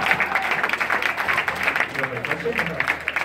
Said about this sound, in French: On applaudit nos poneys très fort.